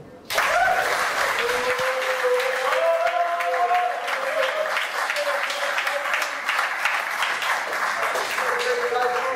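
At a startup accelerator demo day, a crowd breaks into sudden loud applause that stays dense and steady, with voices and cheers mixed in beneath it.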